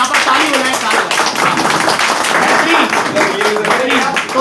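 A seated group of men claps together in dense, steady applause close by, with voices talking over the clapping throughout.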